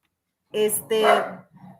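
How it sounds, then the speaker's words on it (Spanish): A dog barks indoors, two or three loud, close yelping barks in quick succession while a person talks nearby. "A ver cómo está el perro ya, si se ha calmado."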